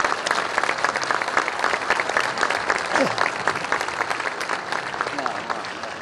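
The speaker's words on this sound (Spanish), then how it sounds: "Aplauso para Uma, aplauso para Uma" A crowd at a political event on the popular economy in Argentina claps steadily and loudly for several seconds, with scattered voices calling out beneath the applause.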